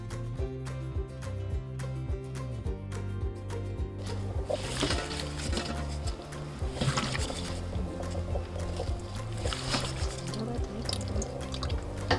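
Dark water from boiled jujubes pours out of a pot in a kitchen, making a continuous splashing and dripping stream over steady background tones, with no voices.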